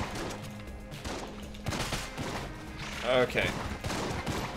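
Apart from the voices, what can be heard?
gunfire and bullets in video game Enter the Gungeon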